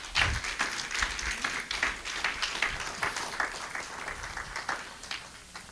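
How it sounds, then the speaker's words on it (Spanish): A church congregation applauds for the Lord at a sermon by Pastor Jorge Alvarenga, a steady wash of many hands clapping at moderate distance, sustained with slight swells for several seconds. "¿Cuánto le dan un aplauso al Señor?"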